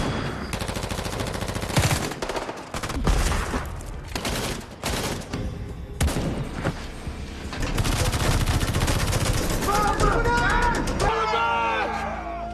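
A film battle between soldiers and rebels outside a cave: dense bursts of machine-gun fire and single shots crackle loudly, with shouting voices mixed in and a musical score rising toward the end.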